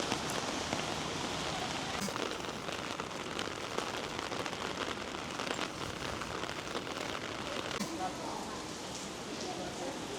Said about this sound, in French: sauf qu'il pleut à verse